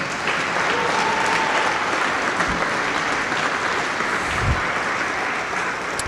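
Crowd applause at a senior women's provincial bronze-medal game in 2014: sustained, even clapping from the stands, loud and steady for the whole stretch with a few scattered calls.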